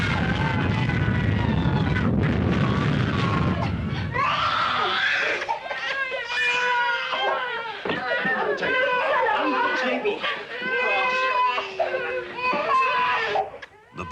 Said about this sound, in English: 12 seconds later, the shock front arrives.